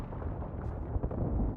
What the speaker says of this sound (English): Airstrike coming in.